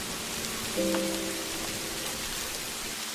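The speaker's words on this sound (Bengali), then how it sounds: "দেখো আবারও বৃষ্টিটা শুরু হলো" Heavy rain pours down in a dense, steady hiss that fills the whole moment, with a brief low tonal hum rising beneath it partway through.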